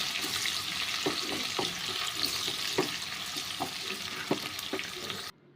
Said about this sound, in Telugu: దీంట్లోనే మనం రెడీ చేసుకున్న ఉల్లిపాయ ముక్కలు అండ్ పచ్చిమిర్చి ముక్కలు కూడా వేసుకొని ఇలా వేపుకోవాలండి.